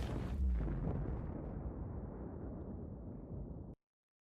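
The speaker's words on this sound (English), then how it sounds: "The explosion's cool" An anime explosion sound effect bursts in with a loud boom, then a long rumbling roar that slowly fades before cutting off abruptly.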